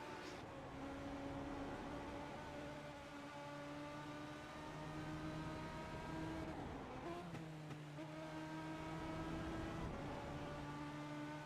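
A race car engine in iRacing at Concord Speedway drones steadily at high revs, then drops pitch and climbs again as it shifts gears around seven seconds, loud and continuous with no talk.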